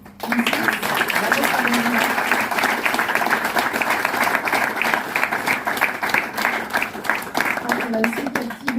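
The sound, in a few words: audience applause after a conference talk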